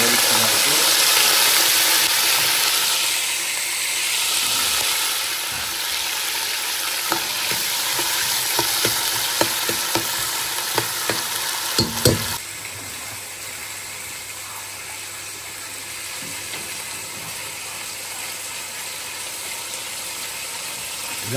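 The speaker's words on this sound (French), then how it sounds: "tu fais revenir les légumes dans l'huile alors" Vegetables frying in hot oil for a massalé, a loud, steady sizzle that runs throughout, with scraping stirring knocks clustered around the middle.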